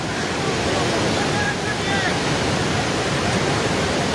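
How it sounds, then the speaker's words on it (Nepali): The flooded Trishuli river surging past submerged Dhunge Bazar, a loud, unbroken roar of rushing water and waves close by, with wind buffeting and voices faintly underneath. "ढुङ्गे बजार पुरै डुबेको छ हेर्नुहोस् त्रिशुलीको अवस्था"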